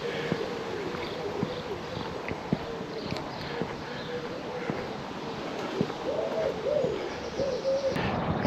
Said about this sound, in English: just bird song, bit of wind